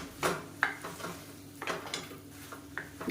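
A spoon stirs meal maker soya chunks in a pan for a kurma side dish, giving a few scattered scraping clinks against the metal over a faint sizzle, close and quiet.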